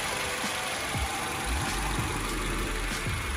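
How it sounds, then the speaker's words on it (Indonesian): A 2013 Toyota Camry V engine idles under an open hood, a smooth, steady hum with a soft, regular low pulsing and a constant hiss of background noise. "Terang mesin bersih, mesin kering halus."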